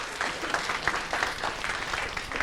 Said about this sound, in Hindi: जोरदार तालियां बजानी शुरू करिए।